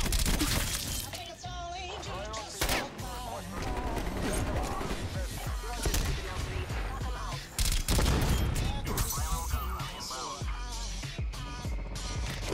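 Dense strafe-run gunfire and explosions from Call of Duty Cold War crackle and boom continuously, loud and chaotic, with a few short dips.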